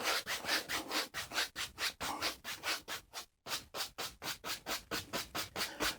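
A paintbrush scrubs crisscross strokes across canvas while painting a dark night sky, making soft, quiet rhythmic swishes about three per second, with a brief pause midway.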